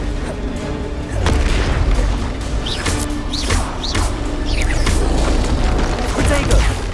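Spells cast in the video game Hogwarts Legacy set off a string of booming explosions, several heavy blasts and crackling bursts in quick succession over a loud, dense game mix with voices.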